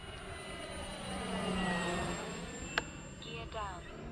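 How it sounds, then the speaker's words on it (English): An E-flite Carbon Z T-28 RC airplane flies overhead, its electric motor giving a steady, moderately distant whine that swells and fades as it passes, with a brief sharp click partway through. "Man, what a beautiful plane."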